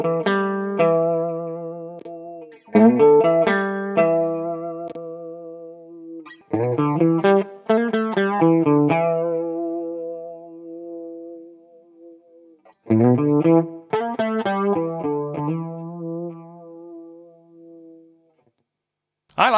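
Electric guitar played through a Fender Hammertone Flanger pedal: phrases of chords and notes with a sweeping, metallic, robotic-sounding resonance, separated by short pauses.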